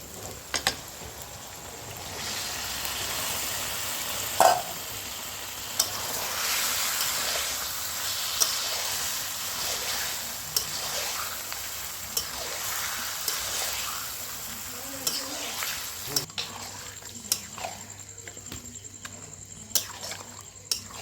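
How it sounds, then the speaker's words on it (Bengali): Marinated chicken sizzling in a pan for Indian butter chicken, a sustained hissing sizzle with scattered scrapes and clinks as it is stirred, moderately loud throughout and no speech. "ম্যারিনেট করে রাখা মাংস আমি দিয়ে দেবো"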